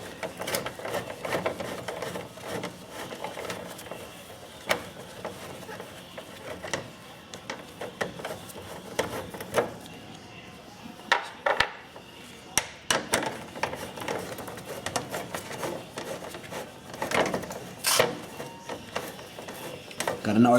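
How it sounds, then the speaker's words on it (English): A 10mm socket wrench loosens the two license plate frame bolts on an F150, giving scattered clicking ratchet sounds and light metallic taps close by, with a person talking over it. "I'll do that with a 10mm socket wrench"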